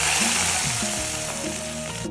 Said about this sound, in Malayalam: വറവിനായി 2 ടേബിൾ സ്പൂൺ വെളിച്ചെണ്ണയിലേക്ക് 8-10ഓളം ചെറിയ ഉള്ളിയും 2 തണ്ട് കറിവേപ്പിലയും ചേർത്ത് നന്നായി മൂപ്പിച്ചെടുക്കാം